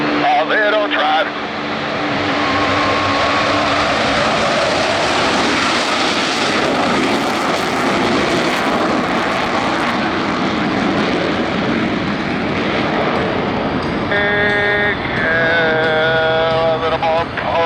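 Blue Angels jets at a Saturday homecoming airshow roar loudly and continuously, a broad sustained engine rumble with wind noise and a crowd behind it, while a narrator talks over the start and end.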